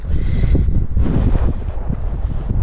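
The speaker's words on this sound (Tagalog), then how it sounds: "Pasalubong pala tayo sa hangin." Strong headwind buffets the microphone beside a river in Taiwan, producing loud, gusty low rumbling that surges and dips without a break.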